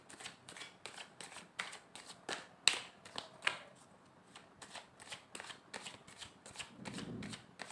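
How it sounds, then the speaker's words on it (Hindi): Tarot cards being shuffled, giving a steady run of soft riffling bursts with a few sharper snaps, close and fairly quiet with no talking. "लास्ट शफल करेंगे।"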